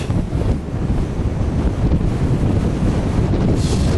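Strong gusty wind buffets the microphone in a loud, continuous roar on an open Lake District country walk from Dockray toward Aira Force, with no other sounds breaking through.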